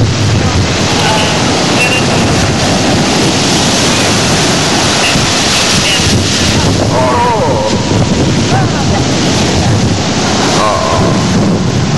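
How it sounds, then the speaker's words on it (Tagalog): Big ocean waves crash and wash against a small fishing boat at sea, a loud, continuous roar of surf and wind with heavy buffeting on the microphone and no clear pauses. "malaking alon ang tumilapon dun sa bangka"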